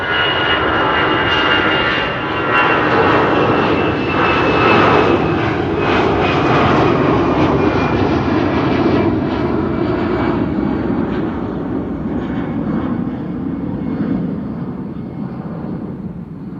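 An Airbus A319 jet takes off at Amsterdam Schiphol Airport bound for London Luton, a loud sustained engine roar with a whining tone that slowly fades as the aircraft climbs away.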